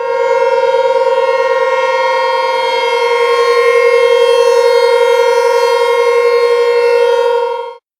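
Four T128 mini sirens sounding together, a loud, steady, rich wail held for nearly eight seconds before cutting off abruptly.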